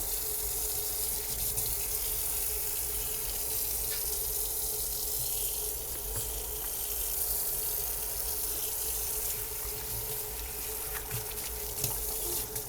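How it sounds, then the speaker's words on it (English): Tap water runs in a steady, close, full gush while a pet's paws are washed at a sink, continuous and unbroken for the whole stretch, with no voices. "I wash only their paws and their bottoms, their butts."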